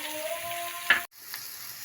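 Green onions, white and green parts together, drop into a hot pan and fry with a steady soft sizzle, broken by a brief clatter and a moment of near silence before the frying resumes faintly.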